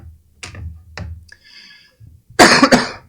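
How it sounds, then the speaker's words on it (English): A single sharp cough bursts out near the end, loud and close, after a few quiet clicks and small mouth sounds. "Pardon the cough, goodness."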